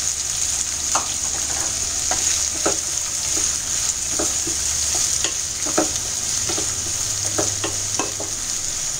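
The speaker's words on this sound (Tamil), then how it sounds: "வெங்காயம் நல்ல பொன்னிறமா வதங்கட்டும்." Finely chopped onions sizzle in hot oil in a pan for a spicy kuzhambu, under a constant hiss with frequent clicks and scrapes as they are stirred, close up and without speech.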